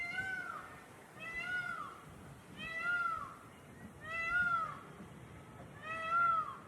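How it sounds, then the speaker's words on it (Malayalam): Peacocks call at a temple in Salem in the evening breeze: five loud, drawn-out, meow-like cries repeat at even intervals, carrying clearly over soft wind. "മയിലിന്റെ കരച്ചിലും ഒക്കെ നല്ല രസമുണ്ടല്ലോ"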